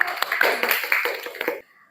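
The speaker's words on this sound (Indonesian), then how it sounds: "Tepuk tangan untuk temannya." Classmates clap for a student in a classroom, a short burst of scattered, uneven hand claps lasting under two seconds before fading to quiet.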